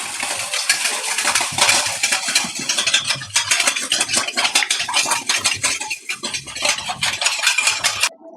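Ingredients for Gujarati sev khamni batter, squeezed lemon juice and other ingredients, are stirred and mixed in a metal bowl, producing a steady clatter of utensil scraping and clinking close up for several seconds without speech.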